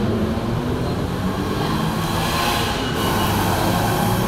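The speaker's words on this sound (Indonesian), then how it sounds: "Ini kita mau naik kereta api." A steady, loud rumble of a train in motion, continuous low roar with broadband rattling throughout, no voices.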